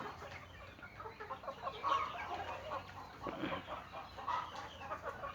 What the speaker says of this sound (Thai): อันนี้คือไก่บ้านล้วนๆนะครับ ไก่บ้านแท้ๆนะครับผม